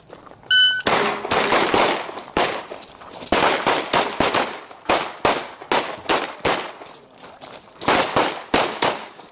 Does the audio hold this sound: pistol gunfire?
yes